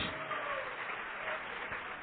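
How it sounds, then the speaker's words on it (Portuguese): A church congregation claps in praise to the Lord Jesus, with a dense, continuous wash of applause under a reverberant room tone. "Vamos aplaudir o Senhor Jesus por cada vida que está chegando"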